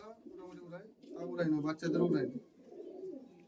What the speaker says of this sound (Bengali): বাহ সুন্দর লাগছে পায়রা